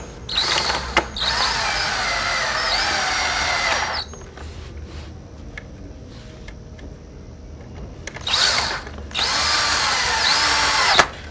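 A cordless power drill drives screws into pre-drilled holes in a T-post, two loud whirring bursts of several seconds each, separated by a quieter pause with faint handling sounds.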